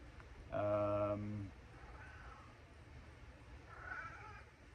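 A cat lets out one loud, drawn-out meow close by, followed by two softer, fainter mews in a quiet room.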